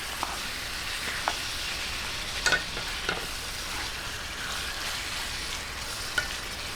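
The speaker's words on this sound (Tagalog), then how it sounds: "Gisa-gisahin lang po natin." Chicken sautéing in a pan for Filipino chicken guisantes, giving a steady close sizzle with occasional scrape and tap of the stirring utensil, no voices.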